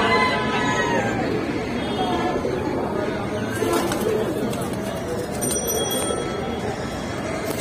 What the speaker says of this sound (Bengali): এইদিকে একটা কবুতর আছে লাল জিরা কবুতর ভাই